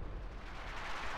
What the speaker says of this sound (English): So, very lengthy barrage there.